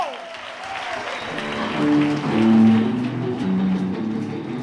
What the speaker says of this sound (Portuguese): Aplaude o Senhor, querido.